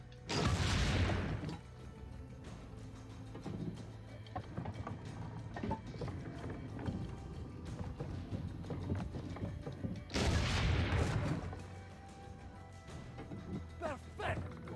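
Cannon fire in Assassin's Creed Brotherhood: two heavy booming blasts about ten seconds apart, each loud and reverberant, with quieter in-game clatter and ambience between them.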